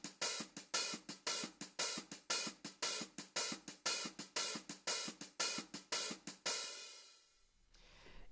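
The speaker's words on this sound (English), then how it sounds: "he's doing this really cool shuffle pattern to" Acoustic or electronic drum kit playing a shuffle pattern outlining a 3/4 polyrhythm over a 4/4 backbeat, steady close hits for about six seconds, then a cymbal wash ringing out and fading.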